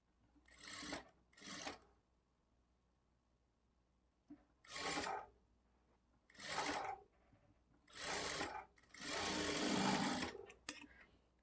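A sewing machine stitches lining blouse fabric in several short, close bursts of quick whirring stitching, broken by brief pauses, with the final burst the longest and steadiest.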